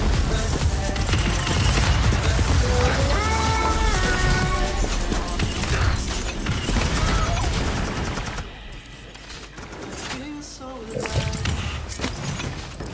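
Drogoz firing rocket salvos in Paladins, a dense, sustained barrage of rapid explosive shots and impacts, loud and continuous, then a few lighter bursts after a brief dip, with game sounds layered over it.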